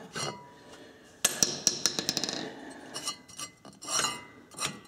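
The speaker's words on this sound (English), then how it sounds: "Give it a good wrench down." A wrench tightens a fitting, giving a quick burst of sharp metallic clicks and clinks followed by a few scattered knocks, close and fairly faint.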